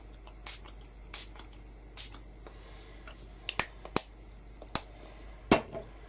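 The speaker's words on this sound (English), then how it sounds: "And I'm just going to lightly spritz this." A spray bottle lightly spritzes mica in a few short, soft hissing bursts spaced about a second apart, with sharper clicks and taps between them in a quiet room.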